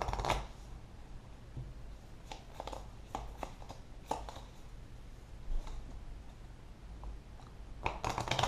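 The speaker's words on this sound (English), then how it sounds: "the next player is also going to draw a card, going to have to shuffle" Playing cards shuffled during a tabletop deck-building board game, a series of quiet, crisp riffling bursts and short flutters spaced irregularly, close but faint over a low room hum.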